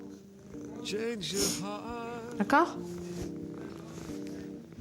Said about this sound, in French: Le chat, il est content, tu fais des câlins.